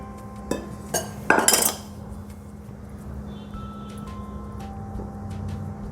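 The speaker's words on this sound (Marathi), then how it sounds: "आता या बेसन पिठाला तूप आणि दूध आपण चोळून घेऊ चांगलं थोडं थोडं टाकू आपण मिक्स करून घेऊ" Gram flour being rubbed and mixed with ghee and milk in a vessel for mohanthal barfi: a few metallic clinks and a brief burst of scraping early on, then a quieter steady background hum.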